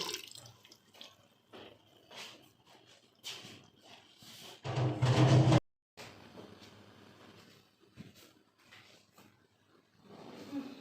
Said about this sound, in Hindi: ये 1 कप और पानी का ऐड करने लगी।